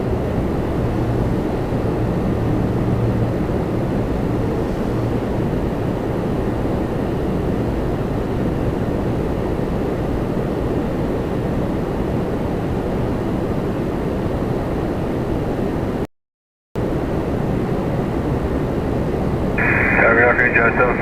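A German cargo Boeing 777 freighter rumbles with a steady, broad jet roar through most of the stretch, briefly cutting out near the end, while someone talks over it.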